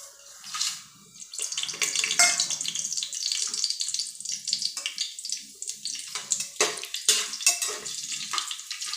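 Rice being washed under running tap water in a home kitchen, with a steady splashing stream, swishing grains and intermittent clinks, fairly close and alone.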